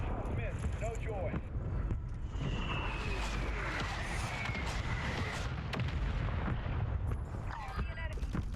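Mortar strike explosions in a Call of Duty game, heavy booms and rumbling blasts under continuous dense battle noise, with voices calling over the din.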